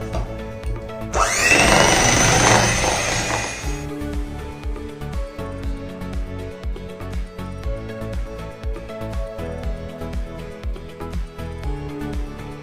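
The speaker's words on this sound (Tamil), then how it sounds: "இந்த அளவுக்கு ஆனோடனே நம்ம ஹேண்ட் பிளெண்டர் வச்சு மிக்ஸ் பண்ணுவோம்." A hand blender whips cream for a sponge cake in a loud, buzzing burst that lasts about three seconds. A steady, rhythmic tonal pattern that sounds like music then carries on alone.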